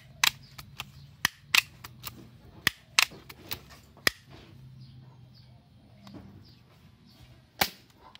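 Benyamin pump air rifle firing pellets, a series of sharp, dry cracks spaced irregularly, some paired close together, over a quiet background, close by with no voices.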